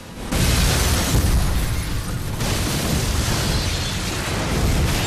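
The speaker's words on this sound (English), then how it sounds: "with a massive explosion" A huge film explosion from The Matrix Reloaded bursts in suddenly and roars on as a dense, sustained blast of rumbling debris, loud and close.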